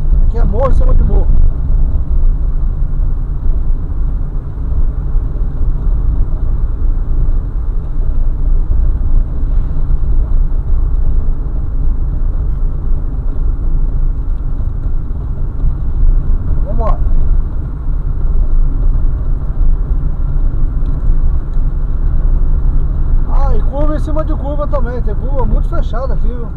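A car engine strains in low gear on a steep hill climb, a loud, continuous low rumble that holds steady throughout, with someone talking briefly over it near the end.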